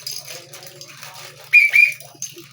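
A small whistle being tried out during an unboxing gives two short shrill toots in quick succession, heard over soft background noise.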